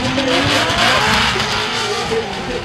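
Toyota GR86 drift car at a Formula Drift competition in Atlanta, loud and continuous tire squeal and engine roar during a chase run, sustained broadband screech close by.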